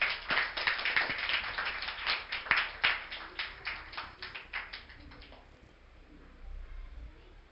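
A small audience at a career counselling session claps to welcome guests, a run of sharp, fairly close hand claps that thins out and fades into room quiet.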